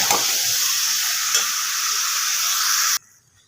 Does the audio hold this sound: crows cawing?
no